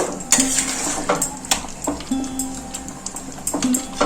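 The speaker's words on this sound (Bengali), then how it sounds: "এরপর আমি এটা ঢাকা দিয়ে দেবো" A metal lid clinks and knocks onto a pot of basmati pulao made with khoya kheer on a gas stove, giving several sharp taps and scrapes close by with no talking.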